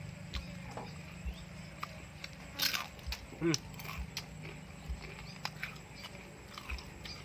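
Crispy fried squid is bitten and chewed, with faint crunches and a couple of sharper bites against quiet background clatter.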